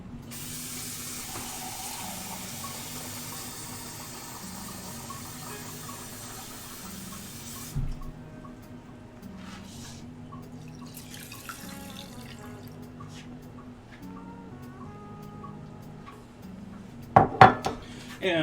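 Tap water runs steadily into a pot for cooking rice, a continuous broadband rush at moderate level, with a few clinks of cookware near the end and no talking.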